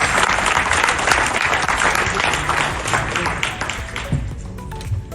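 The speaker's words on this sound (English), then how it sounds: "Let's give him a warm round of applause for his incredible contribution." Warm audience applause at an awards conference, dense close clapping that holds strong and then gradually thins out.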